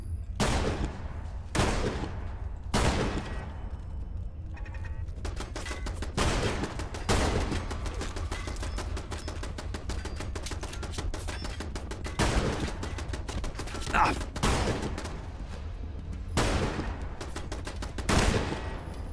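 Repeated bursts of gunfire aimed at turrets in the video game Fallout London, loud and close, with separate volleys of shots spread across the stretch and brief pauses between them, no talking.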